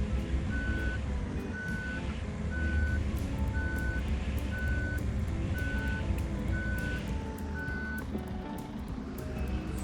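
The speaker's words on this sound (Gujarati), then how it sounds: "રિવેશમાં પાછું જવું પડશે આપણે હવે" A bus reverses with its reversing alarm beeping in a steady, evenly spaced series of about ten tones over a constant loud diesel engine rumble.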